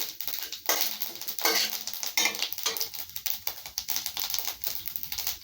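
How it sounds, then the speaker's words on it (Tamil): Mustard seeds, chana dal and urad dal sputter in about two spoons of hot oil for arai keerai poriyal, making a steady, dense crackle of close, rapid pops without any speech. "இப்போ நமக்கு கடுகு, கடலைப்பருப்பு, வெள்ளுளுந்து பருப்பு போட்டுக்கலாங்க. அது நல்லா பொரியுதுங்க."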